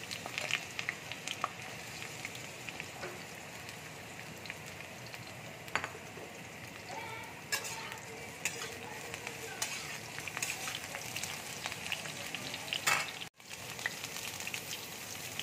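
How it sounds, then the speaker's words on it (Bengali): Pointed gourd frying in hot oil gives a steady, fairly faint sizzle with scattered crackles and pops that continue throughout. "তেল দেখো গরম হয়ে গেছে। এবার আমি পটলটা দিয়ে দিচ্ছি তেলের মধ্যে।"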